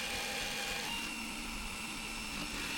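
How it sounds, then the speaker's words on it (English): A Forstner bit drilling through hardwood scrap, a steady faint whirring drill hum with a soft grinding edge, continuous and unbroken, heard alone. "I'm just going through now with a Forstner bit."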